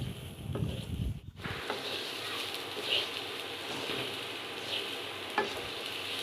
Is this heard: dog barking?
no